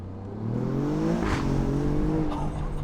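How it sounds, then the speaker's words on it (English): The exhaust of an Alfa Romeo Giulia Quadrifoglio is heard from inside the moving car with a window down. A loud, steady engine drone rises in pitch as it accelerates, with a brief sharp burst around a shift. "Let's roll the window down a little bit and I'll let you hear this exhaust."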